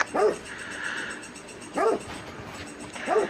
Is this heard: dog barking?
yes